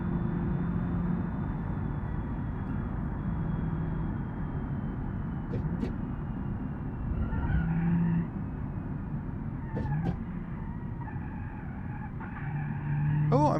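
A base-model Renault 21 or Mercedes B-Class laps the Nürburgring in the BeamNG.Drive racing game: a steady engine drone runs throughout, broken by several short tire squeals and skids.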